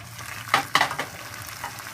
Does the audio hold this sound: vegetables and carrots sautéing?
yes